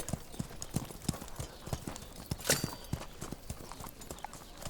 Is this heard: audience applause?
no